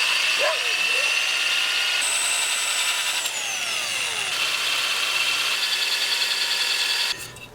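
A power drill turns a stepper bit slowly through a thin metal can, cutting 3/8 inch holes for a wood gas backpacking stove. The whine runs steadily and close, with a high tone that sweeps down as the bit steps wider, then cuts out near the end.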